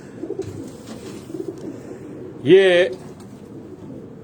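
A single short coo from a homing pigeon sounds close and clear midway, while someone speaks softly before and after it.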